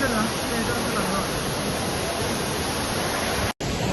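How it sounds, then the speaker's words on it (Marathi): Amboli's main waterfall in monsoon spate, a dense, constant roar of falling water filling the whole clip, loud and close, broken only by a momentary cutout near the end. "हा आंबोलीचा मेन धबधबा"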